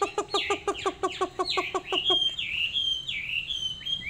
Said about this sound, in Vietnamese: Thì cái con chim nó tự tin nó hót như này